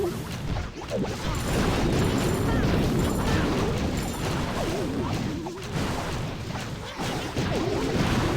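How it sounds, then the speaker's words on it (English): Clash of Clans balloons bomb a scatter shot defense, and a dense, unbroken wash of game explosions, crashes and whooshes keeps the sound loud and busy throughout. "loons successfully destroying and surviving the second scatter shot thanks to Warden's sacrifice"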